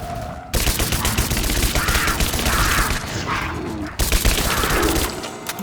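Rapid bursts of gunfire from the video game Rise of the Tomb Raider, loud and dense, with a brief break midway before the shooting resumes.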